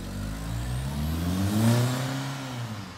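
A 1.8-litre turbocharged Volkswagen Golf GTI MK4 with a newly fitted downpipe revs with a steady, loud, deep exhaust drone that swells slightly and eases off, heard close with no voices.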